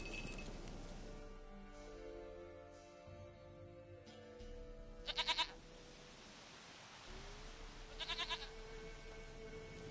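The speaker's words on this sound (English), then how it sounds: "Goat of mine, dearest, sweetest goat." A video-game goat bleats in a few short, fairly quiet bursts over a low musical backdrop, with no talking.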